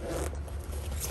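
A zipper opens on a 23zero Peregrine shower enclosure, a steady close scraping zip over a low outdoor rumble.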